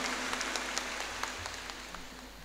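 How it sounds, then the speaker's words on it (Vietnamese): A congregation at a bishop's consecration Mass applauds steadily, a dense wash of clapping that holds at an even level throughout without any talking. "Xin cộng đoàn một tràng pháo tay thật lớn"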